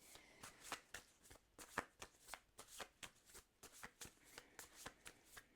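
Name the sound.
shuffling oracle cards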